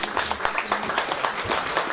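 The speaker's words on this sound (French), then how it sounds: "Je pense qu'on peut les applaudir." Audience applause at a wine brotherhood ceremony of the Confrérie de Saint-Romain in Bordelais, a steady patter of many hands clapping at close range, with no voices heard.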